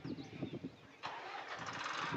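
A tractor loaded with bricks on a hillside near a brick-making site starts up: a sharp onset about halfway through, then a steady, fairly loud engine rumble after a few soft thumping sounds.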